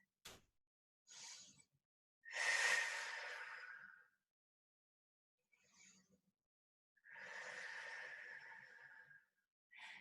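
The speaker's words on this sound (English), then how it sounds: "Take 2 deep breaths." Deep breathing during a stretching fitness class: two long, loud exhales stand out between shorter, softer breaths, with quiet gaps and no talking.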